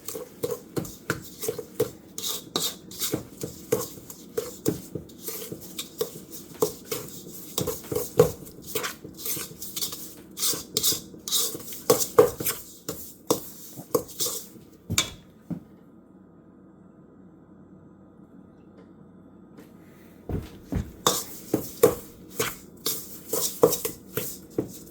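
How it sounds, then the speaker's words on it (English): Sugars being mixed into butter in a bowl for a brookie pie, with repeated scraping, rubbing strokes of a utensil against the bowl in an irregular rhythm, a quiet pause midway before the scraping resumes. "Then I'm going to incorporate the sugars into the butter."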